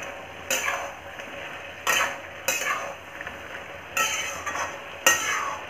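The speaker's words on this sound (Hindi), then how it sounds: "ये देखिए इसे अब अच्छे से एकदम चला लेंगे हम" A Bihari dish is stirred in a pan with a spoon in repeated strokes. Each pass gives a close, scraping swish over a low, steady frying sizzle, with no talking.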